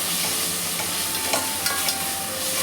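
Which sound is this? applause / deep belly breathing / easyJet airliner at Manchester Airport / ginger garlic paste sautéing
ginger garlic paste sautéing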